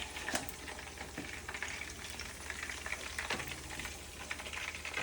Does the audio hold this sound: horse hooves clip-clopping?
no